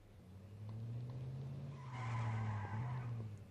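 A car skids hard in the H1Z1 Just Survive survival game, a loud drawn-out tire screech over a low engine drone that swells toward the end, with no talking.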